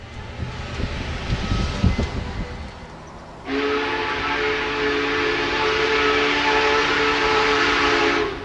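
Union Pacific 844 steam locomotive backing past a steam shop and roundhouse, rumbling running noise first, then a loud sustained steam whistle blast that holds for several seconds without speech.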